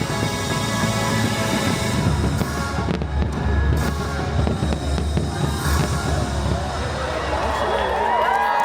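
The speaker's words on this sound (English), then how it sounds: "we hope you enjoyed the fireworks." Disneyland Pixar Fest fireworks at night, a string of booming bursts and crackles echoing over a cheering, whooping crowd, loud and close, with some voices mixed in.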